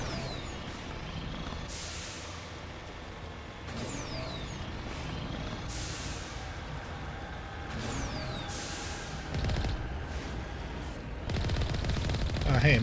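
Machine gun fire from Mass Effect rattles in dense, sustained bursts, with sharp blasts and sweeping whooshes layered over a constant wash of battle noise that grows louder toward the end.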